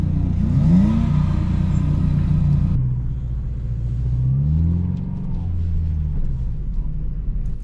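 A Subaru Impreza 2.0R drives on snow, its engine rumbling and rising in pitch as it revs, then dropping to a lower, steady drone, close and loud.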